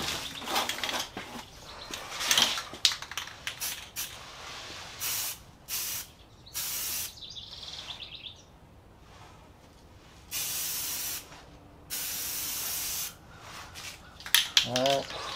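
Spray gun laying a third coat of paint on a Vstar 1300 motorcycle fairing, in several separate hissing bursts of a second or two each with quiet gaps and faint background noise between them.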